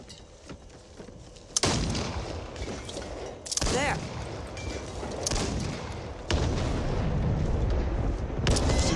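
A weapon fires in the Back 4 Blood zombie shooter, with several heavy booms at irregular intervals over a continuous rumbling battle din.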